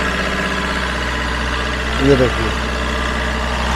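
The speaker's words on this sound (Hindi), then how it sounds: "ये देखिए इंजन कंडीशन देख लीजिए" A used diesel commercial car engine idles close by with a steady, low rumbling knock that holds throughout, a brief louder burst of revving or clatter near the middle, while someone speaks briefly over it.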